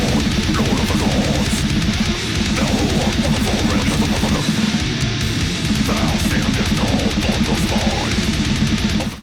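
A custom mix of a death metal track built from the raw session multi-tracks, with dense distorted guitars, pounding drums and continuous loud full-band wall of sound throughout.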